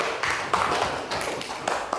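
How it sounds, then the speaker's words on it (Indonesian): A class of students claps together during a school lesson, a steady patter of close hand claps with a few sharper accents. "Ya, tepuk tangan buat kita semua."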